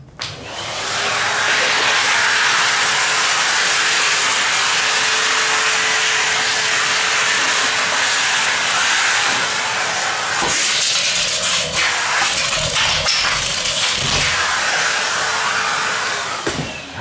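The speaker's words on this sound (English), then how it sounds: "I'll just get the vacuum on this." A vacuum cleaner runs during restoration work on an 1865 Forster & Andrews pipe organ, giving a loud, steady airy whine that starts abruptly and holds. Knocks and rattles of the nozzle against the wood come in later.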